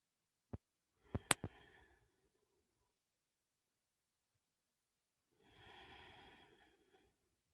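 A single quiet breath with a short snort and clicks, then silence and a soft, slow exhale later on, during a yoga class in a studio, faint and close with no talking.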